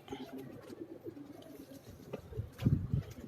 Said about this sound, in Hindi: शाहजहानपुरी कबूतर हैं जी माशाल्लाह से